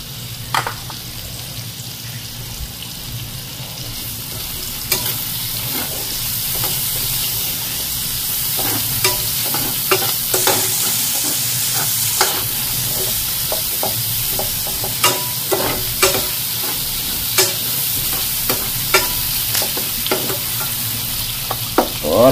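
Plenty of onions fry in a pan for Filipino dinakdakan, giving a steady hiss and sizzle with scattered sharp scrapes and clicks of stirring throughout, close and even.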